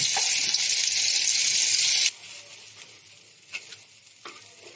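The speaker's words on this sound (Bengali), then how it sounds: "তেল গরম হয়ে গেছে, এবার আমি পেস্টটা দিয়ে দিচ্ছি" Pea paste for a chop filling dropped into hot oil, a loud dense sizzle for about two seconds that abruptly drops to a softer crackle with a few faint scrapes, heard up close.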